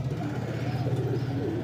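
Pigeons kept for sale coo softly in a short, low, steady murmur with no voices over them.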